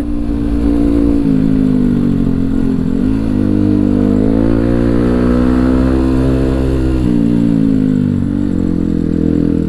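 A car engine rumbles loudly and close by at a WR155 motorcycle meetup in Bandung, a steady low idle that rises and falls in pitch as it revs slightly, with no talk.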